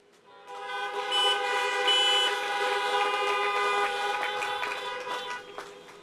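Car horns honk together at a drive-in high school graduation for the Class of 2020, a sustained chorus of overlapping toots and blares from many parked cars that swells quickly and holds for several seconds before trailing off.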